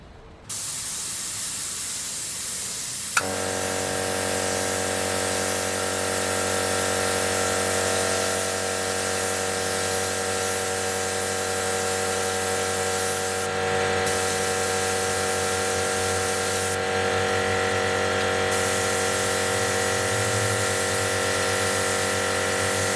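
An airbrush spraying paint onto a portrait, a steady, loud continuous hiss with a constant hum that starts after a short quiet moment and runs on alone with brief changes in tone.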